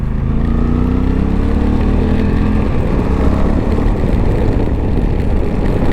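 A 2024 Honda Africa Twin 1100L motorcycle is ridden. Its engine note climbs in pitch for a few seconds, then gives way to a rougher, steady roar mixed with wind, all loud and close.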